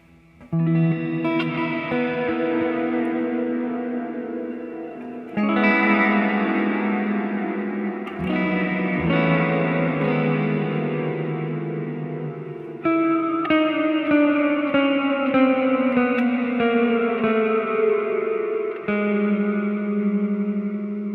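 Guitar notes pass through an EarthQuaker Devices effects pedal, each chord smeared with distortion and echo and sliding downward in pitch, giving a dark, dragging, eerie sound.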